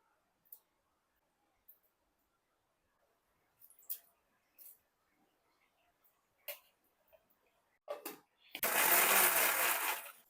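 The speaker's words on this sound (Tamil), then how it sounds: "மிக்சியில போட்டு ஒரு ஓட்டு ஓட்டி எடுத்துக்குவோம்" A mixer grinder blending cooked greens whirs loudly for a couple of seconds near the end, after scattered clicks and light clatter in a quiet room.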